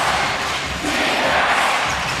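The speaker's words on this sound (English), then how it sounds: "now we're really hearing the crowd as Xinzhuang now" Basketball arena crowd roaring in support of the New Taipei Kings during a TPBL Finals game against the Formosa Dreamers, a steady loud wash of cheering voices throughout with no clear single voice.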